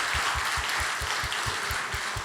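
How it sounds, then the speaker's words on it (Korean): A church gathering in Korea claps for a team that has just given an evangelism demonstration, producing a loud, dense wash of applause with a steady rhythmic thump running underneath. "수고하신 네 분께 다시 한번 박수 부탁드리겠습니다"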